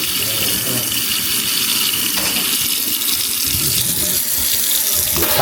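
Hot water runs hard from a newly replaced kitchen faucet into the sink, a loud, continuous rushing gush close by that holds steady throughout.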